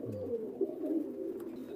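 Pigeons coo at a Pakistani-breed pigeon farm where Fakirkul and Motiyala birds are crossbred, a low steady murmur of several birds close by with no talking.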